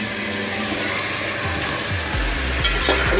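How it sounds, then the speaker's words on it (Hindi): Chicken fries in spices for a korma with a loud, continuous sizzle, and a spoon clanks and scrapes against the pan several times toward the end. "अच्छे से हमारा जो है चिकन फ्राई हो रहा है।"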